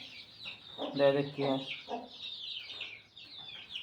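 Backyard chickens cluck in short, close bursts, with a brief spoken remark over the flock.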